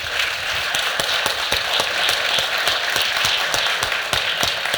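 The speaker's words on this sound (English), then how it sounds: "let's have another round of applause for Greg" Audience at a talk on the Adaptable House as the next Chicago bungalow, clapping together in a steady, even applause that fills the room at constant loudness, with distinct individual claps audible throughout.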